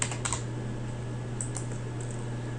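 Several quick keystrokes tap on a computer keyboard, light close clicks in short bursts over a steady low electrical hum, with no talking.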